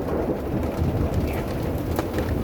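Hail storm on the first day of August, a dense steady clatter of pellets striking surfaces outdoors, continuous and fairly loud with no talking.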